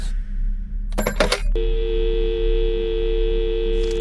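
A telephone hang-up tone in a horror video game: after a short burst of clicks, a steady electronic tone holds on under a low background hum.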